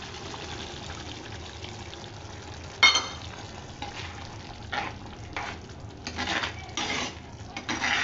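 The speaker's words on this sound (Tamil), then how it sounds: "இந்த புளி தண்ணியை ஊற்றுறேன்" Tamarind water is poured into a hot pan with a sudden hiss, followed by sizzling and the clatter of stirring utensils against the pan.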